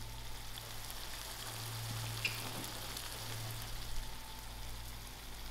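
A frozen seafood mix fries in a pan over lowered heat, giving a steady, even sizzle with an occasional soft clink or stir.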